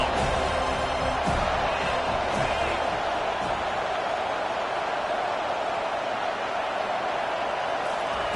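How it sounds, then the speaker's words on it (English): A big stadium crowd at a football game roars steadily as the defense lines up on third down, a loud, dense wall of cheering that holds evenly throughout with no clear talk above it. "Decibels rising as the crowd gets behind this defense on third down."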